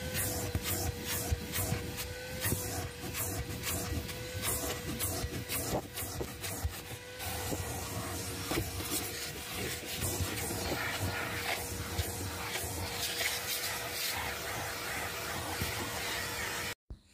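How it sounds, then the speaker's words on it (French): A construction-site shop vacuum cleans a car's interior, its steady droning whine running close and loud while the nozzle rubs and scrapes against surfaces in uneven bursts, before the motor cuts off abruptly at the end. "on passe un bon coup d'aspirateur"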